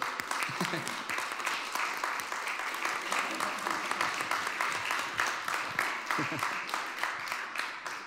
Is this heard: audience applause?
yes